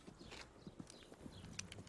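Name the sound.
horse hooves clip-clopping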